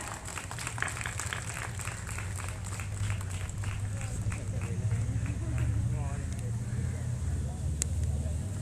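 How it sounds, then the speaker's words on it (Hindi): Loud clapping from an audience at a 75th Independence Day celebration, rhythmic and continuous, somewhat distant, mixed with crowd murmur and a low background hum. "जोरदार तालियां"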